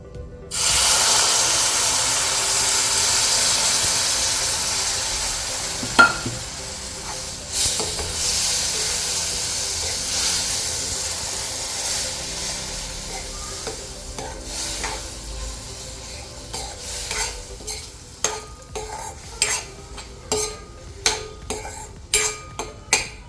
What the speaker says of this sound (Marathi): सो रवा ऑलमोस्ट झाला आहे भाजून आपला